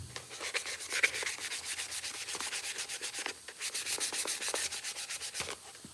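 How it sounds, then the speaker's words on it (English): Rhythmic back-and-forth scraping of sandpaper on metal LSX engine valve covers, steady strokes repeating for several seconds, close up with no talking. "I'm sanding these valve covers."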